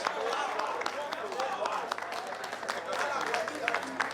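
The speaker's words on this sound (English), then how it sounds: "A round of applause for her as she joins us on stage." Audience applause for the best female contestant at a tertiary business challenge grand finale in Ghana: steady, dense clapping from a crowd that keeps on for several seconds, with scattered cheers mixed in.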